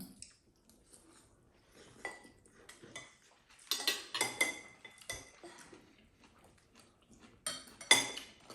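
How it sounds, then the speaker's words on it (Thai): A spoon scooping steamed rice from a dish, with soft scattered clinks and scrapes of metal on a plate, some louder bursts among quiet pauses, close and faint overall. "เอาช้อนตักสิลูก"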